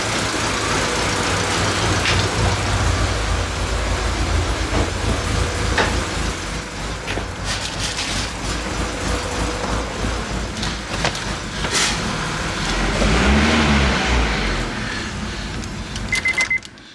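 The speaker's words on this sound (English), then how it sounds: "First start, it actually runs." A turbocharged Acura Integra engine runs on its first start with a loud, continuous rough drone. It swells briefly louder near the end, then cuts off abruptly.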